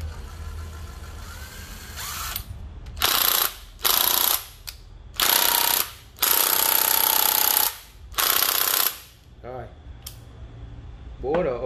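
A used Japanese cordless power drill running in reverse, whirring in several loud bursts of one to two seconds each, separated by short pauses, with a voice talking faintly between bursts.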